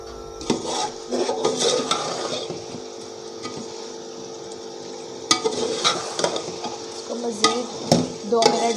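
Tamarind, dried plums and green chillies fry in a pan for chicken yakhni pulao, with a low sizzle under repeated scraping strokes of a spoon stirring the mixture, loud and close.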